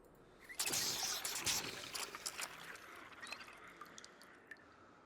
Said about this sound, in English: Fill up our water.